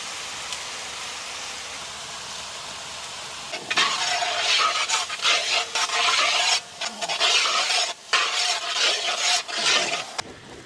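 Drumstick, brinjal, elephant yam, radish, peanuts and beans with rock salt being sautéed and stirred in a large outdoor village pot for dry fish curry. Quiet at first, then loud rasping scrapes and sizzling in uneven bursts.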